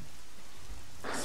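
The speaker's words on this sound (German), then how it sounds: "Es regnet es auch noch." Rain in the video game ARMA 3 pours steadily as a soft hiss, swelling suddenly louder near the end.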